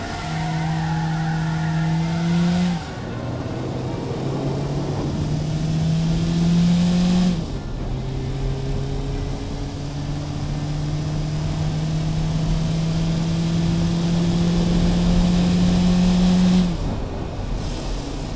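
A cheap naturally aspirated car with a sporty exhaust drives hard, its engine note climbing steadily through long gears with brief dips at two shifts, loud, close and continuous with no talk.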